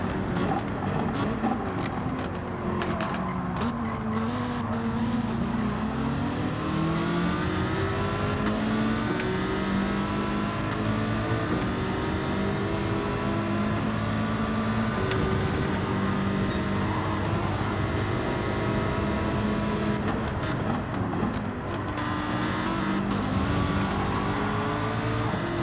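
A Lamborghini race car engine in Gran Turismo 7 roars continuously, rising and falling through gear shifts and revs, loud and steady throughout.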